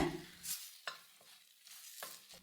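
Tomato, sugar and coriander stalks stirred in a pan for a moong sprouts curry: a handful of separate, close spoon scrapes and light sizzles with quiet gaps between them.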